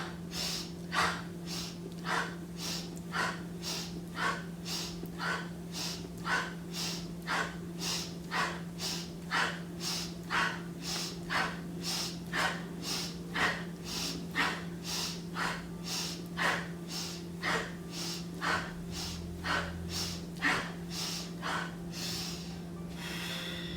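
Sharp, forceful exhaled breaths from a Kriya breathing exercise repeat in a steady, fast rhythm, roughly one per second, close and clear over a constant low hum.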